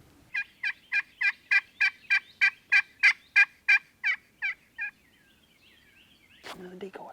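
An Eastern wild turkey in Ohio, strutting toward a decoy, gobbles in a rapid run of about fourteen evenly spaced, clear calls that fade toward the end, followed by a brief rustle nearby.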